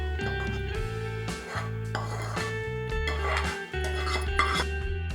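Soaked puffed rice being tossed with tempering in a large vessel, steady scraping and clinking of metal against metal under continuous background music.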